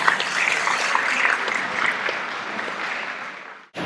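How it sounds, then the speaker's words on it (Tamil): Audience applause at a Tamil seminar in Queensland: a steady, dense wash of many hands clapping for almost four seconds, fairly loud and close, ending in a sudden brief dip. "உங்கள் கைத்தட்டல் கிடைக்க வேண்டும், உற்சாகப்படுத்த வேண்டும்"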